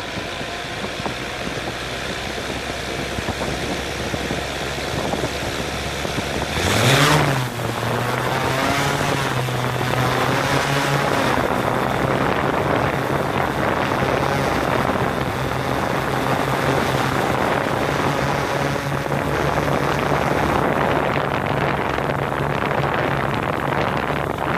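A Yuneec Typhoon Q500 quadcopter drone's motors whir with a rising pitch sweep near the start, then a constant buzzing hum that holds close and loud throughout.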